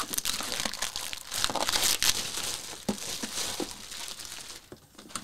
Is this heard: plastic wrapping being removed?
yes